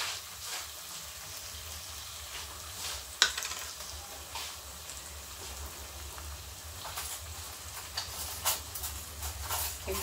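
Chicken and pasta stirred in a pan, a soft continuous sizzle with scraping stirs close by and a sharper clink of the utensil partway through.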